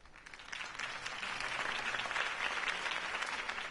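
Video game crowd applauding after a political campaign speech in Batman: The Telltale Series, a clapping wash that swells in from quieter beginnings and holds steady, sounding somewhat distant.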